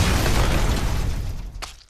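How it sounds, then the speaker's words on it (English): Cartoon explosion from Rick and Morty as an invention blows up: a loud, sustained blast with deep rumble that fades out, followed by a brief sharp crackle near the end. "we see the two finally working on Rick's new invention, only to be blown up in a horrific explosion"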